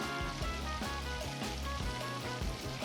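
Onion cooking in a pan for a chicken curry gives a steady, soft sizzling hiss that carries on without a break at low volume.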